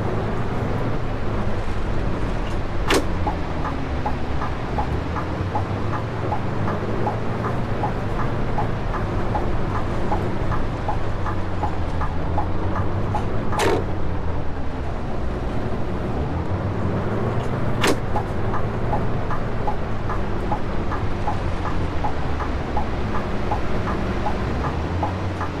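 A large bus driven through a rainy night in a bus driving video game, giving a steady, loud engine drone with slowly rising and falling tones and a few sharp clicks, with no talking.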